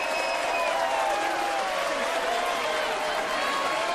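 An audience applauds at a prom-queen event as someone is introduced on stage. A fairly soft, steady wash of clapping and crowd noise lasts throughout, with faint tonal sounds over it.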